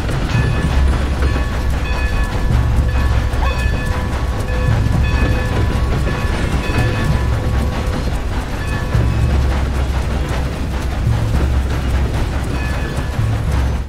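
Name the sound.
train in the video game Red Dead Redemption 2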